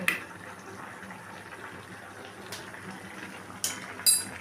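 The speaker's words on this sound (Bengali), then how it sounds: "আর এখানে তরকারিটা দেখুন ভালো করে ফুটছে" A vegetable curry with milk stirred in, bubbling in a pot for a morich jhol, heard as faint, soft simmering and popping with a few brief louder bursts near the end.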